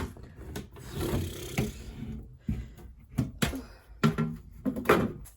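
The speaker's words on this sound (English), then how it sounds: "I'm cutting 4 little legs because I'm going to make a little stand for on my desk" Wood is sawn into four small legs for a little desk stand, with repeated rough rasping strokes in uneven bursts separated by short pauses, close and fairly loud.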